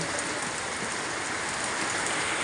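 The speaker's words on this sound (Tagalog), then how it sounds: "sobrang lakas ng ulan" Heavy rain hammers down in a dense, even roar of drops on surfaces, steady and close with no talk.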